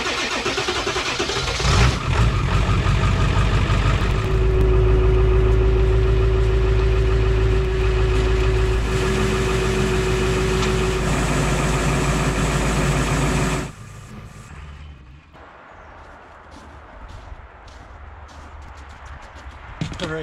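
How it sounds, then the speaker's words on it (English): An antique tractor drives a snow blower auger through heavy slushy snow, a loud steady engine drone with a whining tone and churning rumble that cuts off abruptly, leaving quieter low rumbling and outdoor noise. "we're gonna try to run this auger again through this stuff"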